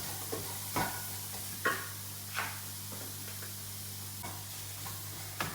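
Onion and ginger dry roast in a pan without oil, giving a quiet, faint sizzle broken by several distinct scraping and stirring knocks at irregular intervals over a low steady hum.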